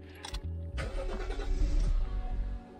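A Toyota Chaser JZX100 Tourer V with a stalling fault cranks, catches and runs roughly for about two seconds, then dies and falls quiet, loud and close with no talk.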